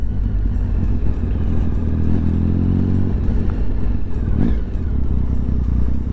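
A Triumph Speed Triple 1050 three-cylinder motorcycle engine running loud and close, with a continuous throaty drone, a brief rise in revs midway and a steady mechanical rumble throughout.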